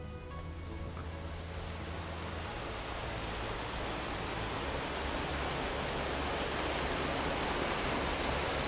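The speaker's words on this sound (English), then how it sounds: "it's so loud and it's hailing here too" Hail falls in the Vintage Story video game as a dense, loud, continuous hiss and patter that holds steady throughout with no talking.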